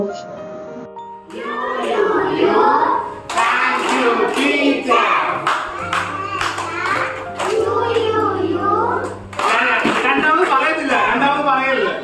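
Children perform a Teachers Day thank-you clap routine, their young voices chanting loudly and almost nonstop, with sharp hand claps breaking through at intervals.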